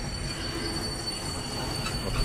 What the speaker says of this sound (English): is this train endless? How long is this train?